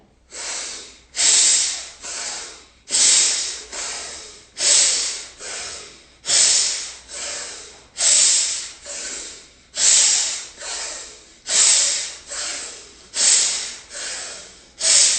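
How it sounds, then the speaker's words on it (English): Rhythmic breathwork breaths in a guided yoga session: a long series of forceful, airy inhale-exhale cycles, roughly one every second or so, loud and close with no talking. "Keep going, keep breathing"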